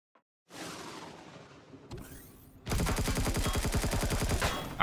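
Gunfire in the space survival game Empyrion Galactic Survival during a monastery raid: a brief burst, a pause, then a loud sustained rapid-fire stream of shots lasting several seconds, with no talking.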